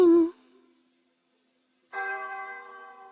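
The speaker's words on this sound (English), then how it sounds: "the sound of distant church bells came floating down the tunnel" Distant church bells ring in a sustained, resonant chord after a brief opening tone and a stretch of silence, steady and moderately loud.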